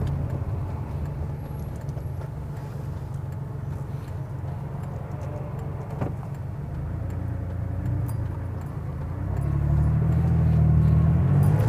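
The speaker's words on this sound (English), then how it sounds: "But listen to that motor. That motor's amazing." A 1989 Porsche 911 Carrera engine with only 16,000 miles runs through a test drive as a steady low rumble that swells louder near the end, with no talk over it.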